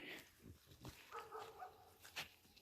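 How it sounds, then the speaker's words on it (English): Faint dog barks come from somewhere distant, a few scattered yips and woofs against a quiet outdoor background. "She's barking out the end gate, and she's probably barking at the bear."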